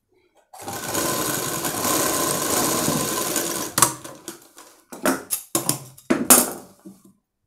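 A sewing machine stitches a frock in a tailor's shop, running in a steady close whir for about three seconds, then in short stop-start bursts.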